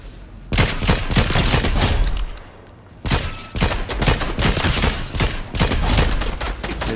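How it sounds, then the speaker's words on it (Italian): Dense gunfire from a video game shootout, rapid overlapping bursts and cracks forming a continuous barrage, loud and close, with a brief lull in the middle before the firing resumes. "Sento che si sparano qui."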